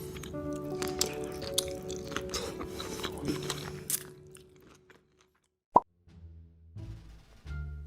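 Close, wet mukbang chewing while eating shrimp, with squishy bites over a dense, steady stretch, then a near-silent pause, one sharp plop, and a few softer chewing bursts after it.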